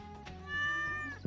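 A house cat gives a single drawn-out meow, close and clear, rising then fading, over a soft Stardew Valley game music background with no talk.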